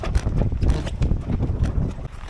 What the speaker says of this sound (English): Hard work, it's really windy.